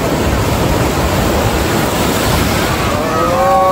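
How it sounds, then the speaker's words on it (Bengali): Strong sea waves crash on Puri beach in a loud, continuous roar of surf and churning water, heard close and without a break. "এই ঢেউটা আসছে দেখুন বন্ধুরা,"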